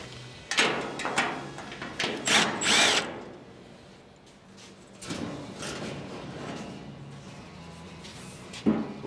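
A power tool removing bolts from a Ford F100 truck bed panel, with several loud, close bursts of drilling in the first three seconds, a quieter stretch, then more running and a short final burst.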